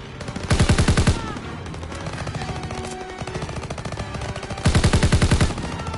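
Call of Duty WWII automatic weapon fire on PS4, two loud rapid bursts of machine-gun shots separated by softer continuous battle noise, heard without talking.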